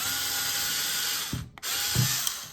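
A power drill whines steadily as it bores into a plastic phone mount, stopping briefly, then bursts of grinding resume, close up and loud.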